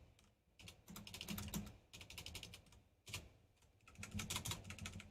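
Rapid clicking keystrokes come from a computer keyboard during a severe thunderstorm livestream, in quick bursts separated by short pauses, fairly faint and with no talking.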